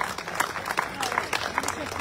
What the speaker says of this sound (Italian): un applauso lo vorrei fare per il nostro sindaco di Sicilia,